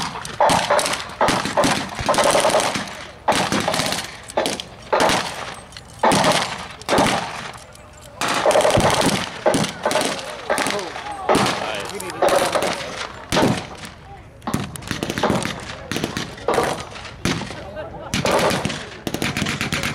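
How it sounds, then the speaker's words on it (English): Battlefield gunfire and artillery with sporadic incoming mortar fire as infantry advances, heard as dense, repeated bursts and sharp reports with loud impacts throughout, mixed with indistinct background voices. "Artillery fire."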